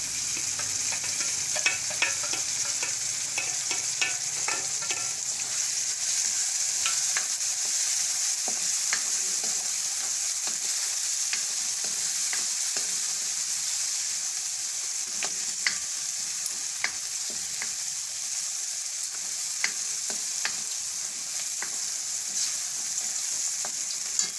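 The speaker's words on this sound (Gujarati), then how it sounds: "અને આને આપણે આમાં નાખી દઈશું એટલે બધું એકદમ સરસ તળાઈ જાય" Ingredients with eggplant fry in a pan for green pigeon pea kadhi, giving a loud, steady sizzle with frequent stirring scrapes and clicks close up, without any talking.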